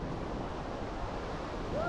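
Broadband ocean surf rolls steadily along the east coast of Busan, blending with wind buffeting the microphone; the wash is continuous and moderately loud, with no distinct breaks between waves.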